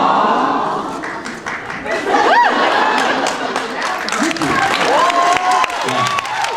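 Applause and cheering from a convention panel audience, a broad wash of clapping and crowd noise with voices talking and laughing over it.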